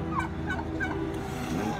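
A turkey gobbles in quick rattling bursts at a rural mission visit in San Jacinto, Bolívar, Colombia, fairly close but soft against a steady background hum.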